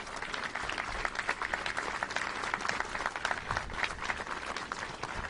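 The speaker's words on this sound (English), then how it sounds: "Let's give them a round of applause." Sustained applause fills a hall at a state bill-signing ceremony honoring the governor and a senator, steady dense clapping from a sizable crowd running throughout without a break.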